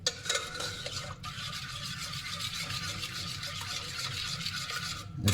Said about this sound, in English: you give it a good stir